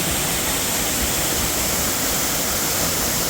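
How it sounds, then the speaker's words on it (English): Toraille Falls, a modest waterfall in St. Lucia pouring into a large pool, roars as a loud, steady, unbroken rush of falling water with no other sounds. "And then it was waterfall time, the Toraille Falls."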